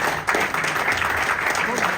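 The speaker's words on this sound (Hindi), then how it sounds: "जरा जोरदार तालियां, जितने भी लोग यहाँ आए।" An audience at an indoor gathering claps steadily, a dense, even patter of applause heard close and throughout the short stretch.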